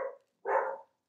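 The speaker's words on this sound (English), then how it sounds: "I think my dog hears my glue bottle hitting the table and she thinks somebody's knocking" A dog barks indoors during a papercraft session: a short fading yelp, a brief pause, then one full, clear bark, close and alone with no talking.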